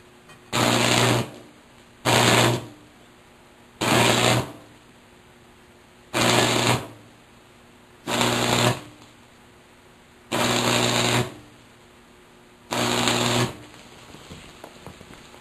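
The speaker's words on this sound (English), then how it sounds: "Then I just keep welding until I fill the gap." Seven evenly spaced bursts of buzzing, crackling tack welding on metal, each lasting under a second and separated by short quiet gaps, loud and close.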